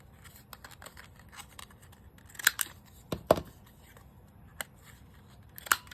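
Scissors snip through paper while a Halloween craft tag is trimmed from coffee-dyed paper, giving a few sharp, close cuts spaced apart over a quiet background.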